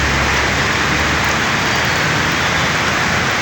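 Heavy rain pours steadily as a dense, even hiss, loud and close, with no pauses or voices over it.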